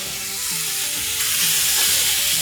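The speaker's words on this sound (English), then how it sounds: "There's that nice sizzle" Pork chops frying in a non-stick pan, a loud, dense, steady sizzle and crackle of hot fat close up, swelling slightly as it continues.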